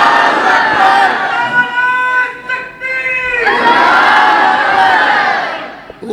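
A religious gathering in Qasoor, Pakistan, crowd voices rising together in loud chanting of slogans, sustained and near, with a sharp collective shout swelling midway and tapering toward the end.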